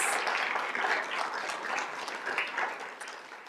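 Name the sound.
audience applause at a school board meeting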